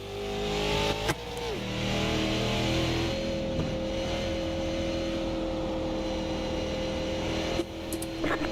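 Loud NASCAR Cup race car engines roar and drone continuously, with a sharp burst near the start and another change in pitch toward the end.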